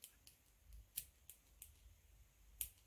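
Small scissors cut fabric during clothes design work, giving a series of soft, crisp snips about one every third of a second. They are close and quiet, with no one talking.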